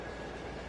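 In a video game, a Lamar Main Line mixed train runs on its route, producing a faint, steady rolling rumble of wheels on rail with soft clatter and no voices.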